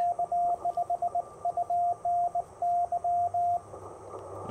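Morse code CW sidetone from a Ten-Tec Argonaut VI QRP radio during a portable park activation, a steady single-pitched tone keyed in dots and dashes for about three and a half seconds over faint hiss.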